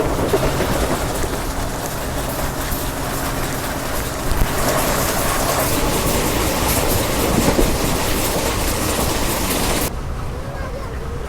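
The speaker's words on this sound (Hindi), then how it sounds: "बिल्कुल ऑन टाइम ट्रेन चल रही है" Passenger train running at speed on tracks near the India–Pakistan border, a loud, steady rumble of wheels and carriage with clickety-clack under continuous rushing noise, heard from inside or close by throughout.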